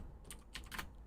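Quick, quiet clicks of a computer keyboard being typed on at an awkward angle, a few short bursts of keystrokes close by with brief pauses between.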